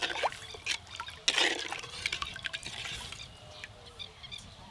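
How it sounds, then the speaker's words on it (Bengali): Water is poured into a cooking pot for a sour fish curry, a faint, close trickle and splash with some clinks. It comes in uneven bursts over a quiet background, and no one speaks. "এবার পরিমাণ মতো জল দিয়ে দেব"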